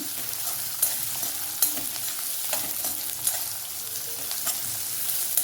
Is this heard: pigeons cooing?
no